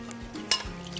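Roqaq pastry filled with minced meat is flipped in a pan, giving a brief, close clatter of metal over a low sizzle within about a second.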